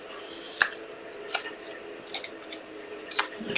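Scissors snipping a paper flower out of patterned card for handmade cards, a few quiet, sparse crisp cuts spaced irregularly in a still room.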